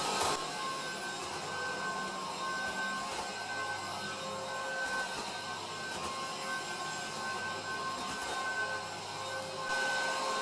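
A Cecotec Conga 7090AI robot vacuum runs in parallel lines with a continuous whirring hum and a faint high whine. The motor dips now and then as it turns, and no one talks.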